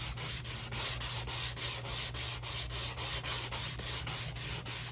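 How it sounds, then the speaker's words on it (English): Steady rhythmic sanding of a wooden guitar back brace with a foam sanding block, close and loud, with even back-and-forth strokes repeating throughout and no voices. "now we're just gonna take that and we're just gonna start sanding"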